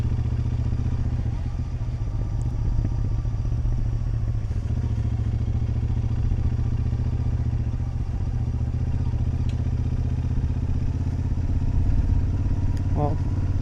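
Motorcycle on a point-of-view ride, steady engine drone and wind rumble throughout, with faint clatter and a brief thump near the end.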